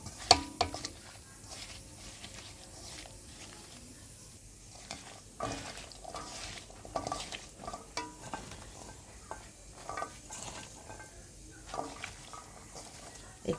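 Taro stolons being mixed by hand in a bowl with chili powder, coriander powder and a little oil, producing soft, irregular wet squishes and light knocks, close but fairly quiet.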